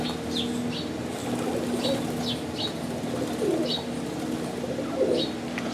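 A large pigeon cooing in low, soft bursts, with brief wingbeat flutters and chirps from other birds among the coos, over steady background hum.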